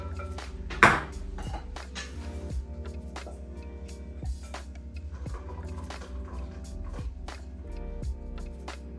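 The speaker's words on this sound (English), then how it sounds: "So now that we've returned it back to the heat, I'm gonna just keep stirring it while it thickens up" A spoon stirs Southern-style banana pudding in a larger pot set back on the heat to thicken, giving steady soft scrapes and light clinks against the pot over a low constant hum, with no talking.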